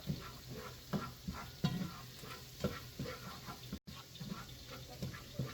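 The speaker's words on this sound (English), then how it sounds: "Just want to get those sauteed till they're nice and tender, translucent, fragrant." Shallots sautéing in a pan until tender and translucent, a soft steady sizzle with regular stirring scrapes, fairly quiet with no voices.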